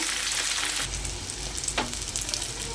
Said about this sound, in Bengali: তেলটা আমার গরম হয়ে গেছে মাছগুলো দিয়ে দিয়েছি এবার মাছগুলো ভালো করে ভেজে নেব